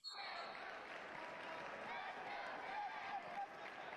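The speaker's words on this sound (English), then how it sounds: "you can hear the St. X crowd." Crowd of St. X supporters roars and cheers at a state wrestling championship match, a continuous wash of noise from a packed gym with scattered shouts rising above it.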